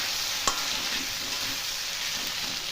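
Diced pointed gourd sizzles as it hits hot oil in a pan with potatoes, salt and turmeric, with a steady close frying hiss and a brief clatter of stirring near the start.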